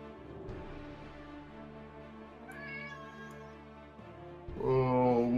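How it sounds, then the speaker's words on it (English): A house cat meows near the microphone, a drawn-out wavering cry followed by a louder, sharper meow at the end, with no talking over it. "Sorry, that's my cat."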